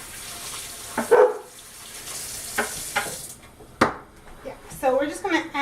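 Hands washed under a running kitchen tap while cooking, a broad rush of water with splashes and shifting bursts as the hands move through the stream, close by, mixed with a speaking voice.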